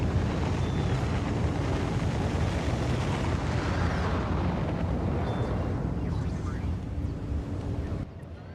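A rocket launch in the Factorio video game gives a sustained, loud roaring rush of broadband noise that swells and slowly fades before cutting off near the end.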